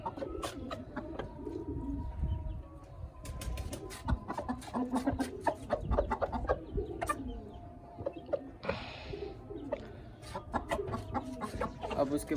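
Chickens cluck and coo in a backyard coop laid with wet soil, with a rooster among them, scattered calls fairly close and overlapping, a brief voice in the background.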